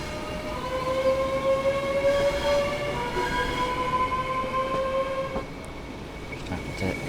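A train running on rails in the Train Sim World 5 video game: a steady, close rolling rumble with sustained tonal whines, a brief clunk near the end, and no talk.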